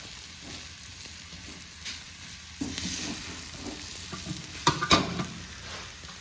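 Mutton liver frying in a pan while being stirred, scraping and clattering strokes over a constant sizzle, growing busier toward the end.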